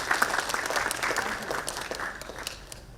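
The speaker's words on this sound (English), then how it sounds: "May I have a big round of applause from the audience" Audience applause at a 2022 India ESG and CSR summit, a steady wash of clapping from a seated crowd lasting the full three seconds, moderately loud and fairly even throughout.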